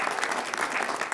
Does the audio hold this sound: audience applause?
yes